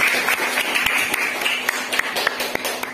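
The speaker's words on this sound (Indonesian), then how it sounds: "Berikan aplaus untuk kita semua." Students applauding in a classroom, a steady burst of hand claps with sharp individual claps poking through, close and fairly loud.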